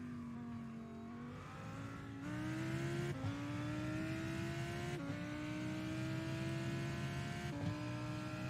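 Lamborghini Huracan GT3 race car engine heard on board during qualifying at WeatherTech Raceway, droning steadily at high revs with the throttle feathered through turns, pitch dipping and climbing in several short steps, loud and close throughout.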